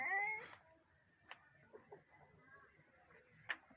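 A cat gives a short, rising meow at the start, then falls mostly quiet with faint ticks and light taps. A second brief, sharper cry or click comes near the end.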